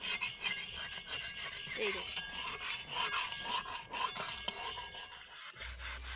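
A spatula scrapes stains off a wok with eggshell powder, producing close, continuous grinding and rasping strokes, with a brief lull before the end.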